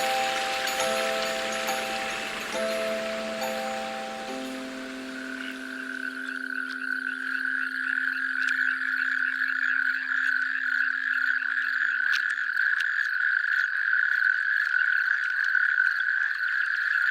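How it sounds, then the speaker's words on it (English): Natterjack toads gather at a freshly formed spring pool in a Mediterranean forest, and a loud chorus of trilling croaks builds into one sustained rolling call, close and continuous, over faint tinkling sounds. "The natterjack toads come out from their hiding places, where they have spent the winter, to to one of the pools which have just formed in order to reproduce."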